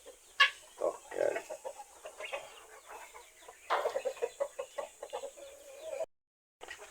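Rhode Island chickens and a Rhode Island–Plymouth cross hen cluck in a farmyard, with a few sharp, separate clucks and short bursts of clucking, fairly quiet, then a brief silence near the end.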